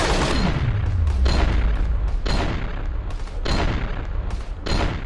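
Toy AK-47 rifle firing a loud, rapid series of booming electronic gunshot bursts, several sharp blasts in quick succession with a deep thump at the start, no talking.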